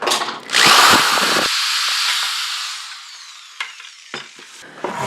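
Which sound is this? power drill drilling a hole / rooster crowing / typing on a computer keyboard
power drill drilling a hole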